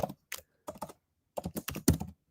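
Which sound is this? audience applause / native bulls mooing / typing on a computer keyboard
typing on a computer keyboard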